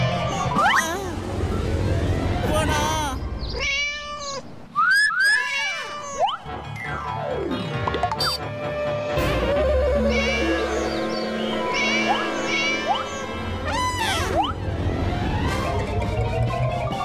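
Several cartoon cats meow and yowl in a loud, busy animated scene, with repeated rising and falling cries, some overlapping, and bursts of other effects between them.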